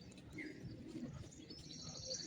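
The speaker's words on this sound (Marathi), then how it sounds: "पक्ष्यांचा मस्त किलकिला" Birds chirp and coo in a natural outdoor setting near a hillside cave temple and monastery at Khopoli, with short, faint calls scattered over a low steady background and no talking.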